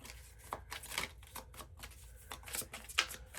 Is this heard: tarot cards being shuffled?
yes